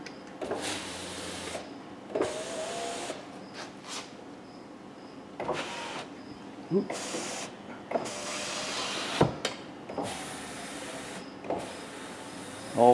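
A Jeep Grand Cherokee's four electric windows whir up and down in short motorized bursts after a wiring repair, each a few seconds long, close by with quiet pauses between them.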